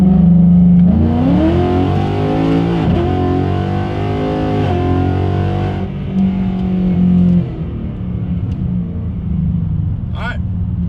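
A Ford Mustang GT with a 10-speed automatic accelerates hard in a full pull, its engine note climbing loud and steady through the gears with brief shift dips, under a voice speaking inside the car.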